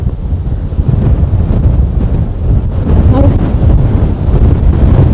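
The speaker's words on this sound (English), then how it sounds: "You can see the wind!" Strong wind buffets the microphone along a seaside stretch during a storm, a loud continuous roar with gusting surges, and a brief voice cuts through partway.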